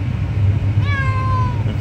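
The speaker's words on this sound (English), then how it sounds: "she is the last survivor because she is the most cautious animal on earth. That's why I call her Cautious the cat" A cautious cat lets out a single drawn-out meow, close and clear, over a low steady background hum.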